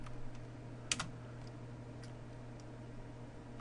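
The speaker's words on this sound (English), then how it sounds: "we're going to type in the" Light typing on a computer keyboard while entering a database command, a few soft scattered key clicks over a steady low hum, with no talking.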